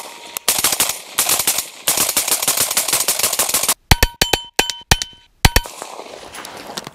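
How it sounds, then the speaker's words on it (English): A binary-trigger rifle fires a full 30-round magazine at RSR steel targets outdoors, a loud, rapid stream of shots with metallic pings of the steel ringing out, broken by a brief pause for a malfunction before several sharp separate bursts resume. "We're gonna shoot a couple of these RSR steel targets down here."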